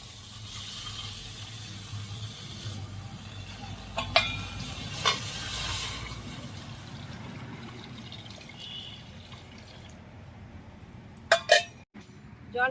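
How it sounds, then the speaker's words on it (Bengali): Water poured into a hot karahi for a soyabean curry hisses and sizzles steadily near the mic, with a few sharp clinks of utensils and a brief clatter near the end. "এবার জল দিয়ে দিচ্ছি"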